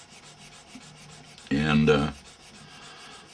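A wooden weather seal piece for a window being sanded by hand, one short, loud, rasping stroke over a faint background hum, with brief speech around it.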